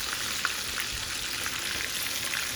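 Steady, close sizzling of food frying in a pan, a continuous hiss with faint pops throughout.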